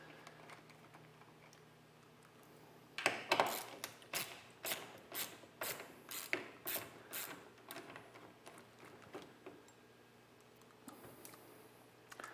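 A screwdriver works loose the screws holding a magnet inside a Stern Godzilla LE pinball machine, giving a run of close, quiet rhythmic clicks and ratcheting scrapes that fade out toward the end.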